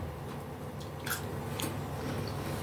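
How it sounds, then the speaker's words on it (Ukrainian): Someone bites into a crunchy fermented pickled cucumber, giving a couple of sharp, close crunches over a low background hum. "Чуєте хрумкіт?"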